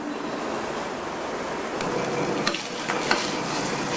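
Cashews, ginger and curry leaves sizzling in a hot tempering being added to leftover-rice ven pongal, a steady frying hiss with a few sharp crackles and pops partway through.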